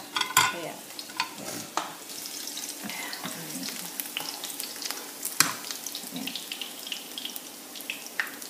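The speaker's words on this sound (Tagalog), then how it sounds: "magigisa muna ako" Chicken and onion sauté in a pan for pansit, sizzling steadily, with scraping stirs and clatters from the utensil throughout.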